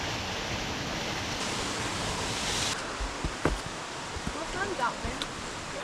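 A remote waterfall beside a winter trail gives off a steady broadband rush of falling water, fairly close, with a few faint knocks and movements near the end.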